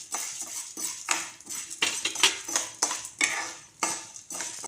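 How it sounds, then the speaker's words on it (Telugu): Chana dal and urad dal dry-roasting in a pan for drumstick-leaf podi, stirred in a rhythmic run of sharp metallic scrapes and rattles, close and fairly loud, with short pauses between strokes. "ఈ విధంగా దూరగా వేయించుకున్న శనగపప్పు తర్వాత మినపప్పు వేసుకోవాలి అండి"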